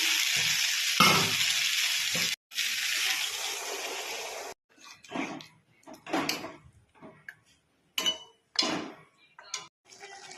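Water is poured into fried mixed vegetables in a pan, a loud burst of hissing that cuts off, then a quieter stretch of intermittent clinks, scrapes and short sizzles as the mixture is stirred.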